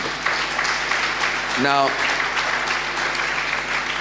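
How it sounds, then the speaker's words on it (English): An audience applauds a panel at a university's tenth-anniversary public dialogue: a continuous wash of clapping, with a short spoken word from a voice partway through. "Round of applause for the panel."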